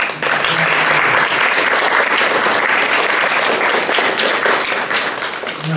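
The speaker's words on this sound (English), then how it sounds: "let's give our panelists a round of applause" An audience at a student internship panel applauds the panelists, a full steady round of clapping, loud and close, with a brief voice murmuring under it at the start.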